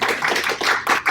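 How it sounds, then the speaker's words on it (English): An audience at an eco-hero awards conference claps loudly and continuously, a dense close-up burst of many hands applauding with no voices over it. "Give a round of applause for everybody."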